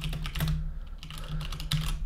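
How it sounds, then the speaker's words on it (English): Rapid keystrokes on a computer keyboard while a message is typed, a close run of crisp clicks with a brief pause midway, no voices. "when I start typing out a message"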